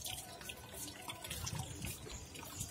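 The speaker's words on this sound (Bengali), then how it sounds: "মগে করে গাছে জল দিই।" Water poured from a mug onto potted plants makes a soft splashing trickle, quiet and close, with small drips and gurgles throughout.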